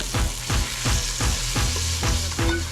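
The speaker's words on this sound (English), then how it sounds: "And you can hear that sear." Pork sears in a hot pan, a loud close sizzle swelling in regular surges about every half second as the meat is stirred or moved, with no talk over it.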